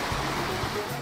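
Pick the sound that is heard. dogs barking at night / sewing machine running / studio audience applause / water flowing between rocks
water flowing between rocks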